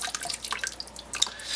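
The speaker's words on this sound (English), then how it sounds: "as the water is just hitting from the bottom of the colander, it's agitating" Hot water trickles and splashes over grain in a colander while brewing an all-grain Irish stout at home, a light steady dribble with brief drip-like accents, fairly faint and with no talk.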